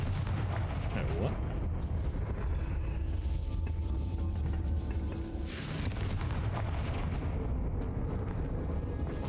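Repeated Confringo blasting-spell explosions from Hogwarts Legacy combat on PC, dense booming blasts layered over continuous game music and effects, loud and sustained throughout with no clear gaps.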